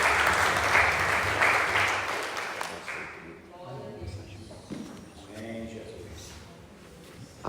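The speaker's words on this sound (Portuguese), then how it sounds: "Uma salva de palmas." A church congregation gives a short burst of applause at a worship service, lively for about three seconds before it stops and voices take over.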